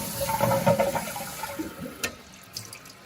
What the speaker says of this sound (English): give this bad boy a flush